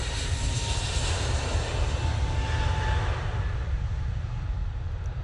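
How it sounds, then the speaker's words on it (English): A Boeing 787-8 Dreamliner arriving from Bridgetown rumbles steadily with a broad, low engine roar at moderate distance, the noise holding even and gradually easing. "2E coming in from Bridgetown using the 787-8 Dreamliner"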